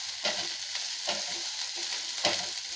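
Carrots and beans sauté in hot oil for vegetable vermicelli upma, a loud close sizzle broken by several rhythmic scraping strokes of a spatula against the pan.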